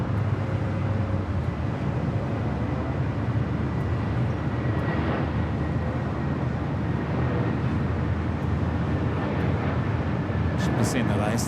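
A Boeing 777-300ER airliner taking off from the north side at LAX, a broad, steady jet roar that holds loud and continuous throughout, heard from a distance out in the open.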